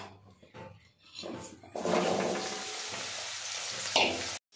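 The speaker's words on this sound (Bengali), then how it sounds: "তেলটা গরম হয়ে এসছে, এবার গ্যাস বন্ধ করে দিয়ে এই জলপাইগুলোকে দিয়ে দিলাম" Olives dropped into hot oil for a pickle, with a few soft clatters followed by a sudden steady sizzle that holds for a couple of seconds before cutting off.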